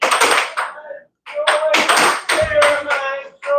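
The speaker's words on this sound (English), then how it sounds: "We got a rowdy crowd today." A rowdy crowd at a live air hockey match claps in uneven bursts, sharp close slaps with brief gaps between them, mixed with spoken voices.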